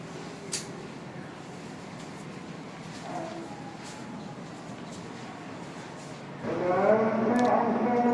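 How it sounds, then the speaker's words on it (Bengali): A quiet room holds faint background voices, then near the end an Islamic call to prayer for iftar rises, a sustained melodic chanting voice, moderately loud and somewhat distant. "আজান দিয়ে দিছে, সবাই ইফতার করো।"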